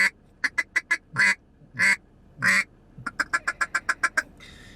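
A duck call blows rapid, evenly spaced feed chatter, then several longer drawn-out quacks, then another fast run of short quacks. The calls are loud and close, with clear gaps of near silence between bursts.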